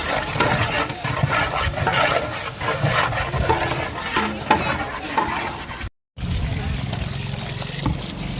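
Chicken meat for biryani is rinsed by hand in a vessel of water. The sloshing and splashing is close and continuous, with a short gap partway through.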